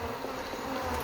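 Honeybees from captured wild colonies hum continuously around wooden hives, a dense close buzzing swarm sound lasting about a second with no voices.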